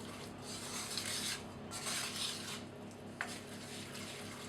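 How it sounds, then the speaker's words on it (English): Lentils being stirred in a pot to coat them in a honey mixture for granola, making a continuous wet, gritty scraping with steady swishes and one sharper knock near the end. "we just want to quickly give them a good stir to coat them in the honey mixture"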